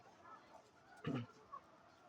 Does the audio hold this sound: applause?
no